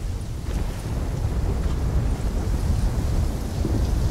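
Deep, steady storm rumble of thunder in Call of Duty Black Ops 3, set in Singapore, a continuous low roar with no clear separate cracks, heard alone throughout.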